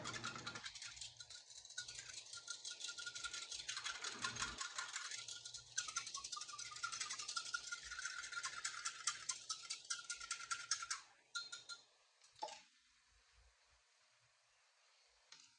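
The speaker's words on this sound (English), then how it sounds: "Use a little whisk. Whisk it together." Small whisk clattering quickly and steadily in a bowl of cornstarch slurry for home-cooked holiday sides, a dense rattling scrape that runs for several seconds, then breaks into a few scattered taps before fading.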